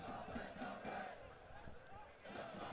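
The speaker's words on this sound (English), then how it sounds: "Energized crowd here in City Stadium." Soccer crowd at City Stadium in Richmond roaring steadily throughout, a broad continuous wash of cheering voices with commentary talk layered over it.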